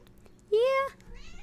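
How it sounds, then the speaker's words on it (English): A house cat gives one clear, close meow, short and rising, with soft talk around it. "Yes, is there a little kitty? Yeah, come on up."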